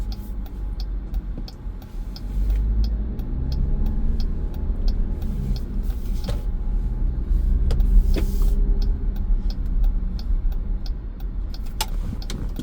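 Inside a car moving slowly through a dealership lot as it turns past a Tesla Cybertruck, a steady low engine and road rumble carries on with faint regular ticking, like a turn signal, and a few brief clicks.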